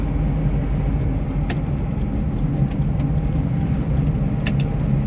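A Honda Civic Wonder drives at night on a long highway route to Cilacap, its steady engine and road rumble loud and continuous from inside the cabin, with brief higher ticks and clicks over the drone and no talking.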